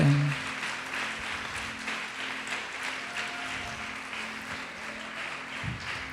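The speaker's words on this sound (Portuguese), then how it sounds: "Pode aplaudir e glorificar o Senhor" Congregation at a church service applauding, a soft, steady wash of clapping across the whole stretch, fairly distant and even, with a brief low tone near the start.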